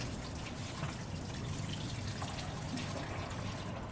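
Hot old engine oil draining from a 2010 Ford Escape 3.0L, a steady close pouring trickle without pause.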